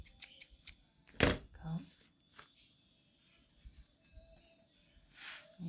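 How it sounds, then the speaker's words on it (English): Scissors trim excess paper from a mini composition notebook cover, a sharp snip rising out of faint handling rustle and soft paper noises, close and quiet, with no talk. "Cut that excess."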